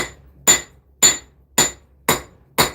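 A blacksmith strikes a hot knife blade with the cross peen of a hammer, five evenly spaced sharp metallic blows about half a second apart, close and loud, with ringing tails and no talk.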